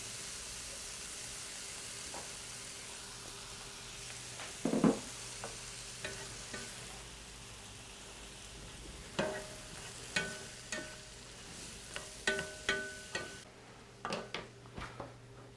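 Sweet potatoes cooking in a frying pan under a low steady sizzle, with a spatula scraping and tapping the pan now and then, more often toward the end; close and fairly quiet, no voices.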